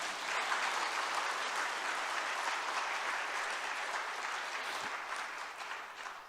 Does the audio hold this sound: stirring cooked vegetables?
no